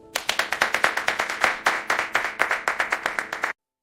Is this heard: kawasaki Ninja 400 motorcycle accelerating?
no